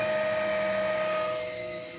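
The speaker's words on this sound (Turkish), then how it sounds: "işte motorumuzun da hızı zaten düştü" A pump motor fitted with a fluid level relay winds down as its speed drops, a steady mechanical whine with a constant tonal hum that fades somewhat toward the end.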